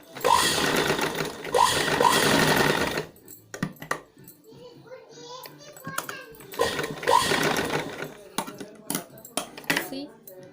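Sewing machine stitching two pieces of cloth together, loud, steady whirring runs in two bursts separated by quieter handling clicks and fabric shuffling, with the motor dominating close to the mic.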